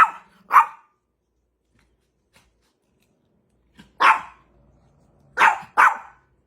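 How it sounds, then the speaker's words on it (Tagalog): A dog barks angrily in loud, separate bursts: two quick barks, a pause, then three more in close succession, with only faint background in between. "Napakaingay nga tahol ng tahol."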